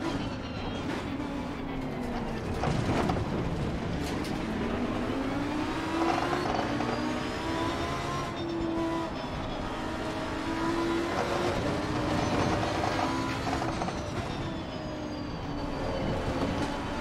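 A Lamborghini Huracan GT3 race car in the Assetto Corsa Competizione racing game, its engine droning steadily and loudly at high speed down the straights, the pitch rising and falling through shifts with no break.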